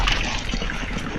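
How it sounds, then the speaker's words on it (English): Running water flows steadily in a chicken-town building video game, with a brief, continuous trickling and splashing wash and no voices. "So now we have a running water system."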